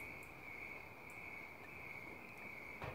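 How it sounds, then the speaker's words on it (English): A steady, high, continuous night chorus of crickets and katydids trills without pause, a dense buzzing drone with a faint hiss underneath and no voices. "Crickets are loud tonight. Katydids are out."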